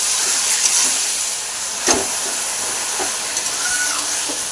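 Boiled taro greens fry with dry red chili in a pan, a steady sizzling hiss throughout, broken by one brief clatter partway through.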